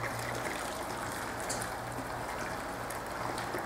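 Boiling-hot water poured from an electric kettle into a baking dish around ramekins of crème brûlée, a steady continuous trickle and stream with no talking.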